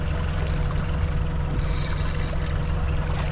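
A fishing boat's engine runs steadily close by, a low continuous drone with a faint hiss of water and wind, and a brief higher whine rises partway through.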